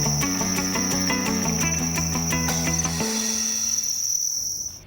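Farmed crickets in a cricket-rearing operation chirp steadily and loudly, a dense continuous trill of many insects close by that thins out toward the end; no voices.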